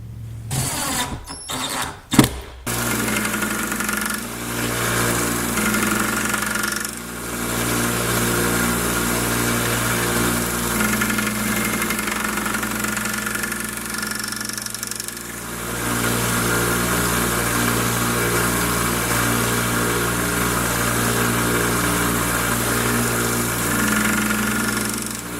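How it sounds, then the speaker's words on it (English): A belt grinder or similar powered grinding machine finishing the bevel grind on a knife blade, a steady loud mechanical whir with strong tonal hum, running continuously after a few sharp knocks at the start, dipping briefly midway. "Now I'm going to go and finish up the grind on this blade."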